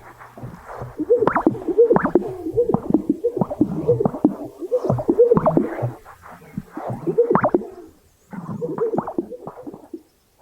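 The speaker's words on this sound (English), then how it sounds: "This is the sound of the greater sage grouse on a lek," Rhythmic bursts of bubbly popping and soft swishing calls from a displaying greater sage grouse on a lek in Wyoming sagebrush, repeated several times at close range in quiet surroundings.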